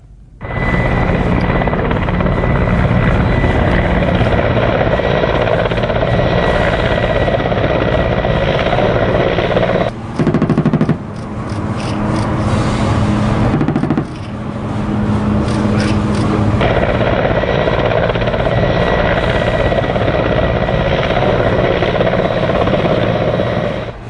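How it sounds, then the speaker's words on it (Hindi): Military fighter helicopters fly over India, their loud, continuous rotor and engine roar filling the whole stretch, with a brief shift in tone partway through before the steady drone returns. "हिंदुस्तान के आसमान में उड़ रहे इन फाइटर हेलीकॉप्टर का निशाना अचूक है।"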